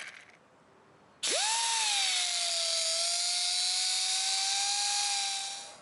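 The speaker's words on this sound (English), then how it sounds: "Using my 3M cutoff wheel here," 3M cutoff wheel spinning up and grinding a relief cut into a factory bolt's threads on an Alfa Romeo Giulia QV, a sudden loud high whine that holds steady for several seconds before easing off.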